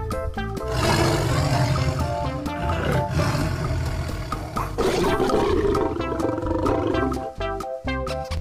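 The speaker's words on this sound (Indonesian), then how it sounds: "ada harimau putih." A white tiger roars as a sound effect in a colourful animal toy scene, delivering several loud, close, drawn-out growling roars in succession with brief gaps between them and no talking.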